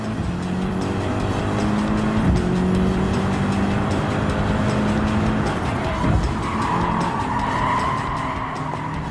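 A BMW M6 GT3 race car in Gran Turismo 7's online racing at Brands Hatch, engine roaring steadily through gear changes with tires squealing and skidding, loud and continuous throughout.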